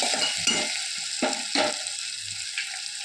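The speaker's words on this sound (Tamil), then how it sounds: "இஞ்சி பூண்டு விழுது தக்காளி நல்ல மசிய வதங்கணும்" Tomato and ginger garlic paste sauté in a pan in a home kitchen, with a spatula scraping and stirring. Soft sizzling sits under a few distinct scrapes and taps, quiet and close.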